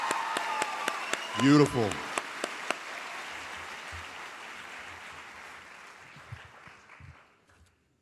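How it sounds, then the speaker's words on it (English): An audience at a high school graduation claps for a student speaker, a broad wash of applause with a few sharp nearby claps. One voice speaks briefly early on, and the clapping then thins and fades out to near silence. "Another round of applause for Anusha Kerr, everybody."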